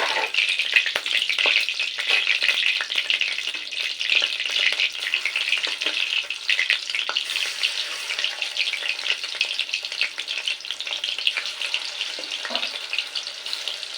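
A second batch of chicken pieces for chilli chicken fries in hot oil, producing a loud, continuous close-up sizzle with occasional crackles and stirring, with no one talking.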